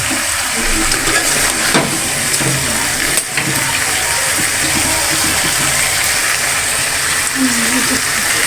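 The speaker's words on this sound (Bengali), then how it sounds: "মুরগি কষানো হয়ে গেছে এখন ঝোলের পানি দিয়ে দিবে" Water poured into a pot of sautéed chicken and potato curry to make gravy, a continuous hissing gush and sizzle running steadily throughout, close and fairly loud.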